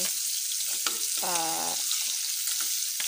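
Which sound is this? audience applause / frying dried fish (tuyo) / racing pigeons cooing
frying dried fish (tuyo)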